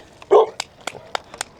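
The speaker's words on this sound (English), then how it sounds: "Good job of barking, Ruf." A dog gives one close bark followed by several short, sharp yips or bark fragments, outdoors beside a desert trike.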